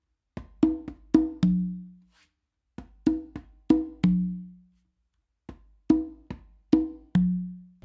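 Conga ghost notes and open tones in a 3 a caballo variation, each phrase ending on an open tumba tone; three short groups of crisp hand strikes separated by pauses, played close and alone.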